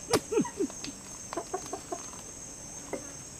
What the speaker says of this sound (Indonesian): Ini ayam pada gila ya, makan durian.